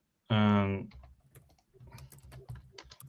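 Typing on a computer keyboard: rapid, uneven clicks of keys following a brief loud tone at the start, close and fairly quiet, with soft speech around the keystrokes.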